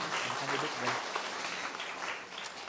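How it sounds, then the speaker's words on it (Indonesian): Congregation applause at a Mother's Day Sunday church service, a dense steady wash of clapping with some voices mixed in, fairly close and sustained. "kasih tepuk tangan buat mereka bertiga."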